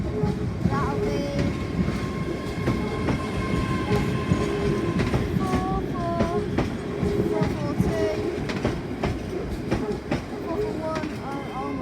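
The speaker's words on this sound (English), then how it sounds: "ScotRail now coming out of Glasgow Central." A ScotRail train rolls through Glasgow Central station with a steady, heavy rumble and rail clatter. Occasional wheel squeals ring out above it, and faint voices sound in the background.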